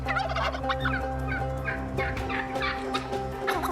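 A wild turkey gobbling in New Mexico woods, a loud rattling gobble call repeated in bursts over a quiet outdoor background, with no voices.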